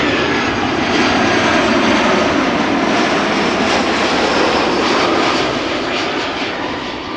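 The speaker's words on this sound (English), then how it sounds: "Lufty A319, arriving from Munich" Lufthansa Airbus A319 jet arriving at Schiphol from Munich, its engines a loud, steady broadband roar that holds throughout and fades slightly at the end, with no talk.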